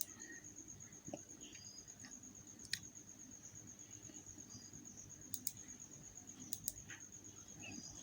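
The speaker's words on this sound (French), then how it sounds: "Je clique." A computer mouse clicking as an image is placed on a page, a few small, sharp clicks spread across the stretch over quiet room hiss, with no talking.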